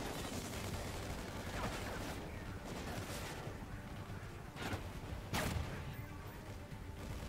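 Sniper rifle fire in Call of Duty Ghosts on PS3, with a few sharp, booming shots standing out over a constant background of distant battle noise.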